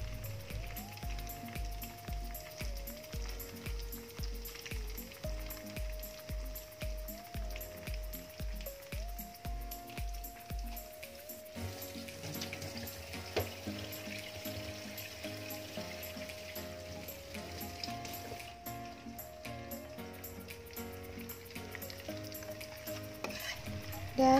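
Indonesian sambal korek is stirred into a generous amount of hot oil, making a steady frying sizzle with stirring scrapes, heard under background music.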